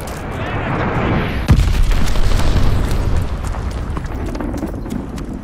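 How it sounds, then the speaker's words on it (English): Glide bomb blast in the Call of Duty Vanguard video game, a loud booming explosion with rumbling debris and a dense crackle of battle noise that slowly subsides. "Enemy glide bomb coming in hot!"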